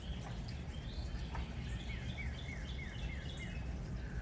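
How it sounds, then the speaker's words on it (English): Garden birdsong, faint and distant: a bird repeats a string of quick descending whistled notes over a soft, steady outdoor hiss, with scattered chirps before it and no voices. "Can you hear the bird song?"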